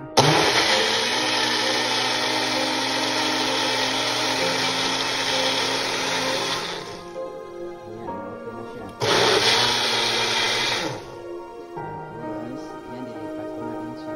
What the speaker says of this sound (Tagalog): At saka blender ko na siya.